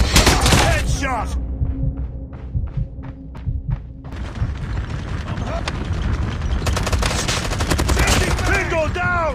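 Dense gunfire in the video game Call of Duty on the Nuketown map during team deathmatch: loud rapid bursts and single shots over a busy game mix, with a short stretch of regular beeps midway.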